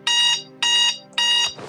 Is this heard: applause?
no